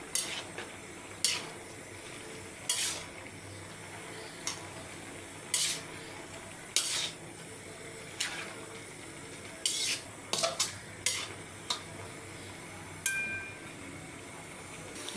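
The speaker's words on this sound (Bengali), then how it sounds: "এখন আমি শাকগুলো ভালোভাবে নেড়ে চেড়ে নিচ্ছি।" Malabar spinach greens, cooked with potatoes, are stirred and sautéed in a pan to a steady sizzle, with a utensil scraping the metal in sharp strokes every second or so and no talk over it.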